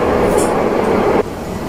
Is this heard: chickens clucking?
no